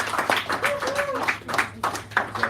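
An audience at a poetry hour in a café claps in loose, uneven bursts, the applause close and modest, with a voice speaking over it.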